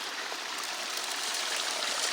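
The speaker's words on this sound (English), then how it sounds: "River's flowing fast." Fast river water rushes down a sluice on a gold wash plant, a steady close hiss and rush of flowing water with no pauses and no voices.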